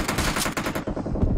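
Automatic gunfire in the mobile battle royale game BGMI, a fast rattling burst of shots at close range followed by a few heavier, more spaced reports.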